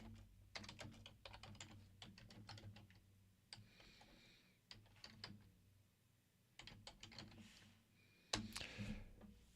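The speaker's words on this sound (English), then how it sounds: "I'm going to have to type this again." Someone types on a computer keyboard in several quick runs of soft, close key clicks, pausing between bursts, with a slightly louder clatter near the end.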